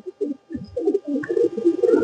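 A pigeon coos close by in soft, low, throaty bursts that repeat in quick succession and build into a steady burbling run.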